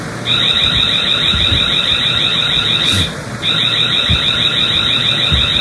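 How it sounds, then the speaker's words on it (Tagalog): Manual alarm siren on a TP-Link Tapo C560WS CCTV camera blaring loud and close, a shrill steady warbling tone that cuts out briefly near the middle and then resumes. "let me try yung alarm"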